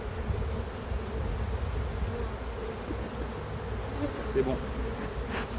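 Honey bees swarm around their queen during an artificial swarm split, a thick, constant buzzing hum close up, with a brief spoken remark over it near the end.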